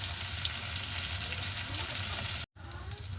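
Onions added to a hot pan fry with a loud, continuous sizzle while being stirred, broken by one brief cut-off.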